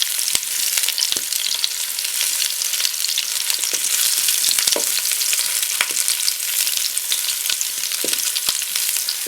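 Meatballs searing in a Ninja Foodi pot give off a dense, steady sizzle with crackling pops and occasional stirring scrapes, close and continuous.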